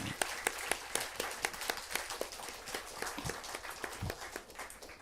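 A church congregation at a Sunday service claps for its volunteers, with scattered, distinct hand claps coming quietly from a modest gathering rather than a dense roar.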